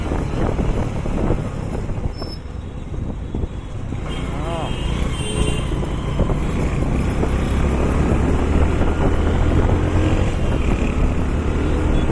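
Dense road traffic on a busy street, a continuous low rumble of many engines with vehicles passing close by and a steady roar that builds slightly toward the end, with no clear talk.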